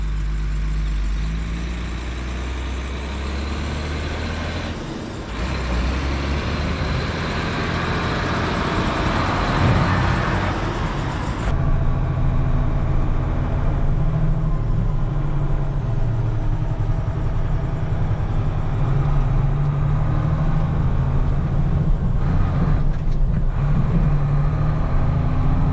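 Truck engine driving along while the gears are shifted, a loud steady low rumble with a brief dip and a change in engine tone near the middle, continuing as a heavy drone, no talk.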